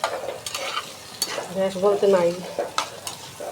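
Potatoes fry in a pan over a very low gas flame, with soft sizzling and the scrape of a stirring spoon nearby while someone speaks briefly over the cooking.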